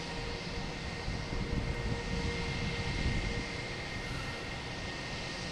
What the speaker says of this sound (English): Next takeoff is JetBlue